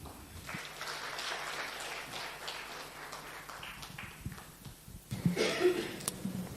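Audience applause at a hall event, a soft scattered patter of clapping from many hands that thins out, then a brief louder burst near the end.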